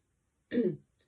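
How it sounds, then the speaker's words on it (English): A single short, gruff throat clearing, close and fairly quiet, with silence before and after. "clearing my throat"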